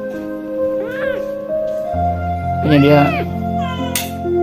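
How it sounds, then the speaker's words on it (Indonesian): Several rescued cats meow in a home, a few distinct rising-and-falling cries heard near and fairly loud over a steady hum, with a brief spoken line between them. "Kucing-kucingnya"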